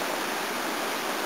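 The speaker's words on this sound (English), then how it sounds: "This is the Connecticut River" Upper Connecticut River rushing through white water above Lake Francis near Pittsburgh, New Hampshire, a steady, dense broadband roar with no break, close and continuous.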